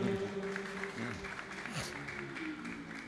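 An audience applauds for Kang Jo at an Indonesian talk event, a steady moderate patter of many hands clapping throughout, mixed with a voice speaking over it.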